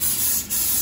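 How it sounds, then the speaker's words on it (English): A steady hiss of aerosol spray, loud and close, with a brief dip in the middle before the spraying resumes. "And I'm gonna spray"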